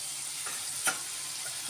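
A potato fry with red chili powder and homemade masala sizzles steadily in a pan while it is stirred, with a few soft scrapes of the utensil over the even, close frying hiss.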